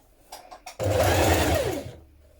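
A sewing machine runs one steady burst of about a second and a half, hemming the double-folded bottom edge of a trapeze dress, loud and close after a few soft clicks.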